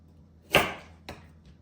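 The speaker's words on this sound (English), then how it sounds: "knows the sound of a carrot peeler" A carrot peeler scraping along a carrot in a home kitchen: two short, dry rasping strokes, the first louder and longer, the second brief, close and alone.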